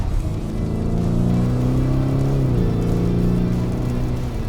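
A Lamborghini Urus Performante engine drones loudly on a wet race track in heavy rain, a steady close hum whose pitch climbs, dips briefly at a gear change, then settles.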